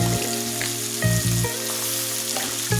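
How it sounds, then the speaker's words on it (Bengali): Potatoes frying with rohu fish in a pan, a loud, steady sizzle broken by several stir-scrapes that briefly swell the crackle; no one speaks. "আলুটা দিয়ে আমি ভালোভাবে কষিয়ে নিই"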